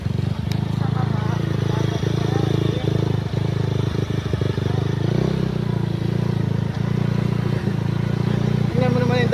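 A motorcycle rides along a narrow, sandy one-lane path near Kanaway Beach on Jomalig Island, its engine droning steadily and close throughout with some rattling clatter.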